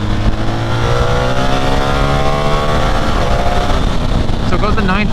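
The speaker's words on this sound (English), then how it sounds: "Now let's smash this thing to the limiter real quick." A 2024 BMW R 1300 GS motorcycle engine is revved hard toward its 9,000 RPM limiter, a loud, close howl climbing steadily in pitch before holding flat near the top.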